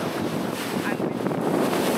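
Sea waves rushing around a boat near rocky islands, a steady loud wash of water mixed with buffeting wind noise on the microphone, continuous throughout.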